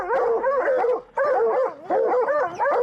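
Hunting dogs baying and barking at a mountain lion up a tree in high mountain country, loud, close, overlapping howling barks in steady bursts with a short pause.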